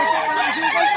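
Chickens for sale at a market in Bocaue cluck and squawk loudly and close by, in a steady stream of overlapping calls from several birds.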